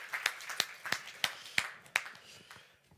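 Sparse hand clapping at a business talk, about seven or eight distinct claps at a steady, slow pace, fairly near and moderately loud, tapering off at the end with no voices.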